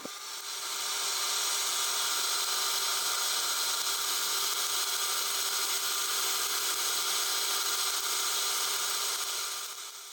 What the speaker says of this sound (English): Now I'm whisking the cream cheese in my stand mixer on high until it's smooth.